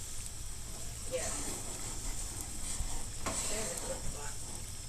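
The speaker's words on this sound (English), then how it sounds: "water is already boiling" Water boiling in a pan on a stove gives a soft, steady bubbling hiss, faint and close, with occasional stirring scrapes and a person talking nearby.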